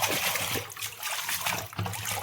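Dirty water trickles and splashes steadily into a wash basin, a close, continuous running-water sound with small splatters throughout.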